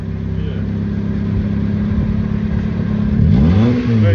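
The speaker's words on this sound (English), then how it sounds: "good exhaust. That sounds good." A car with a newly fitted aftermarket exhaust idles with a close, deep drone, then revs up sharply near the end with a rising and falling sweep in pitch.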